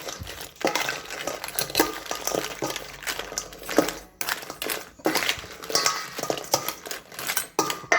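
Crab is poured into a spicy salad dressing and stirred in a bowl, producing close, irregular clinks and scrapes of a utensil against the bowl with soft wet mixing sounds.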